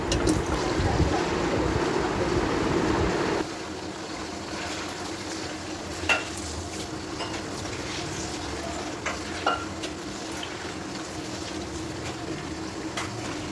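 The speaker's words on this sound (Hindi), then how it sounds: "इसी ऑयल में हम चिकन को फ्राई करेंगे।" Chicken pieces fry in oil already used for browning onions, a loud hissing sizzle at first that settles into a steadier, quieter crackle with scattered pops and spoon scrapes.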